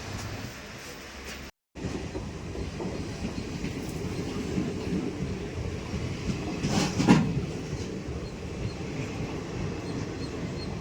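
Tirupati to Hazrat Nizamuddin Express train running on Indian tracks, heard as a steady rumbling rattle with rhythmic wheel clatter, a brief dropout and a sharp squeal partway through, with no talking.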